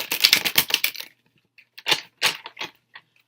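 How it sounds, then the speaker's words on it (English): Tarot cards being shuffled on a table, loud and close: a quick run of riffling snaps, a pause, then several more separate shuffling bursts. "I am shuffling on the table here and it gets really loud"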